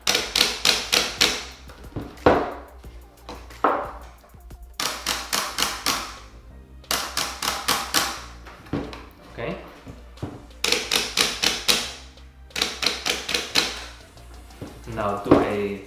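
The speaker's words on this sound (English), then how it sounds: "So these are Sanwa parts and the Sanwa JOF lever. So basically the parts are the same. So now let's do a sound test." Sanwa buttons on a Mayflash F300 Elite fight stick pressed in rapid bursts, clusters of sharp plastic clicks and clacks separated by short pauses, close and crisp with no voice over them.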